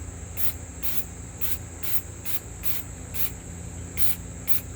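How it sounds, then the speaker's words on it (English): Reshoevn8r protector spray misting over a shoe, about ten short hissing bursts in an even rhythm, close and fairly quiet over a low background hum. "We're just gonna mist the whole shoe, kind of do it like you would, like you spray painting something."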